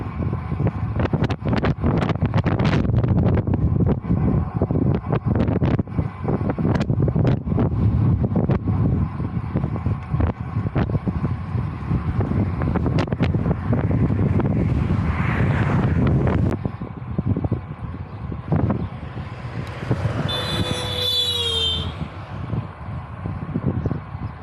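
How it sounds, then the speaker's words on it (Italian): Steady wind buffeting a microphone while cycling uphill into a headwind on the Matajur climbs, a loud continuous roar with gusty bursts throughout, no talking. "oggi è vento contro"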